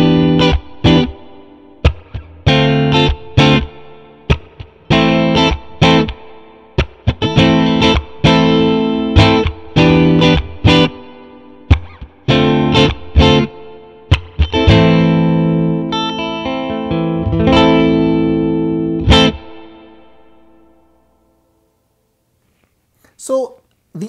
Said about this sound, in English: A Strat and a Princeton go together like peanut butter and jelly, if you ask me.